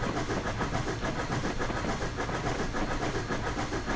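A narrow gauge railroad train runs along the tracks at Clear Creek, with a steady dense rumble and continuous clatter of cars, loud and unbroken throughout.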